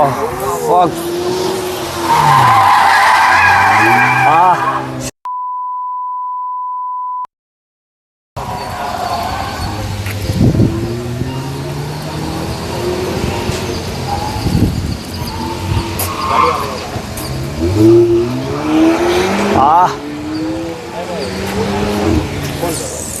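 Race cars in Bangalore roar and rev with repeated tire squeals and skids, loud and close. Voices talk over it, and a flat electronic beep briefly replaces the sound partway through.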